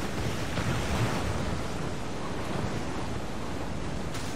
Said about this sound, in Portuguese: Nossa, tromba d'água, velho.